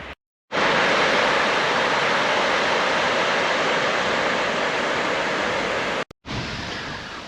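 River Exe in Devon flowing behind trees along a riverside path, a steady broadband rushing wash that holds constant loud and close for several seconds with no talk.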